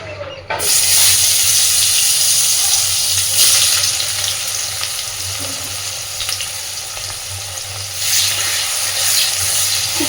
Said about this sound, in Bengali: সুন্দর করে পেঁয়াজটা এবার ভেজে নেব